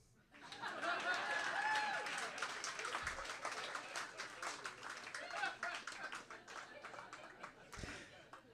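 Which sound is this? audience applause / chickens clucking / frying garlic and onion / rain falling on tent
audience applause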